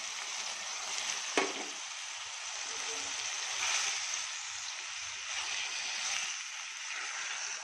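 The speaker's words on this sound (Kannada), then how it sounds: "ಇದೆಲ್ಲ ಸ್ವಲ್ಪ ಫ್ರೈ ಆಗಲಿ" Fresh green peas and fenugreek leaves with a few cloves fry in a pan, a soft steady sizzle with a single sharp utensil knock early on, fairly quiet and close, no speech.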